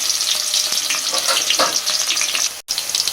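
Onions sizzle loudly in hot oil in a pan for a mushroom curry, a steady close crackle with a few stirring scrapes and a brief drop-out near the end, no talking.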